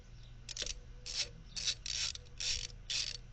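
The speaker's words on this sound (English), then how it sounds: "So we're removing some bolts." Ratchet wrench removing bolts from valves; a series of six short, close bursts of ratcheting clicks separated by brief pauses, over low background hum with no talk.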